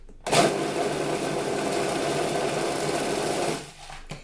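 Blender whizzing no-cook healthy snack bar ingredients, a steady loud motor whir running about three seconds before cutting off, with no talk.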